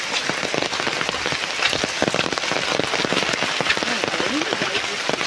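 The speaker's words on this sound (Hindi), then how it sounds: "ଏତେ ବର୍ଷା ହେଉଛି ଛତା ସବୁ ଗଳି ଯାଉଛି।" Heavy rain pours steadily, a dense close hiss of drops drumming on surfaces and umbrellas, loud and unbroken throughout, with a voice faintly talking beneath it.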